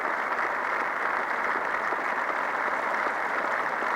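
A cricket crowd at Dean Park applauds batsman Barry Richards, and the dense, steady clapping of many hands carries on evenly from a distance with no voices over it.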